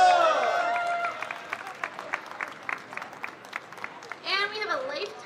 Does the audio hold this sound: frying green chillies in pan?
no